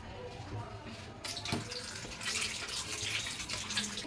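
Water splashing into a cooking pot of mango and mango juice for a mango curry, a soft pour that starts partway through and runs steadily at low level.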